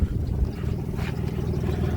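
A BMW M54B25 inline-six fitted in a Tata race truck project idles with a steady, loud low rumble and a slight rise in revs partway through, close up with no talking.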